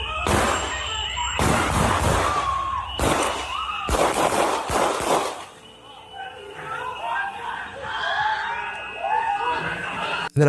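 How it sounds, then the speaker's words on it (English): A burst of roughly ten loud, sharp gunshots cracks out in quick clusters over the first five seconds, followed by a noisier stretch of shouting and crowd commotion. "I think you'll hear about 10 shots that were fired"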